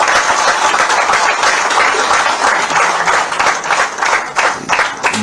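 An audience at a BJP party office event with Madhya Pradesh Chief Minister Mohan Yadav breaks into loud, sustained clapping that fills the room evenly for several seconds.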